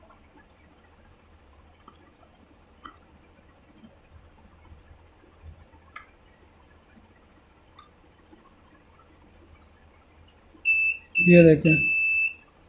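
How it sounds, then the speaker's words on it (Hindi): A UPS kit's low-voltage buzzer sounds as the supply drops toward 9.5 volts. A loud electronic beep pulses near the end after a quiet stretch of faint ticking, with someone talking. "ये बजर देना शुरू कर देगा।"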